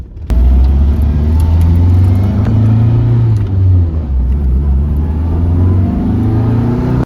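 Nissan 240 on a test drive, a loud close-up engine drone with a low rumbling note that holds steady while cruising and rises and falls slightly with throttle.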